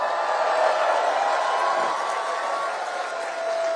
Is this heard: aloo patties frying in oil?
no